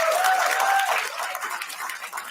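Crowd applause at a political rally or speech event, a dense continuous wash of many hands clapping, loud and steady before gradually thinning, with no talk over it.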